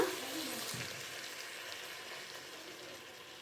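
Ground roasted masala meets hot oil in a frying pan for mutton head curry, giving a steady, close sizzle that starts with a brief burst and then settles into an even crackle.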